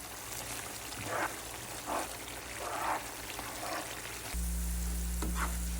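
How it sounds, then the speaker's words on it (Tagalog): Garlic fries in oil over low to medium heat for a chili garlic oil, a steady sizzle with intermittent scraping stirs, then a louder, denser frying hiss. "Then lutuin lang natin under low to medium fire for 30 minutes while continuously stirring para hindi masunog yung garlic."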